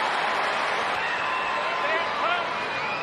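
Crowd noise at an AFL football match, Geelong against Essendon, fills the air as a steady, dense roar from a large stadium audience, with a commentator speaking over it.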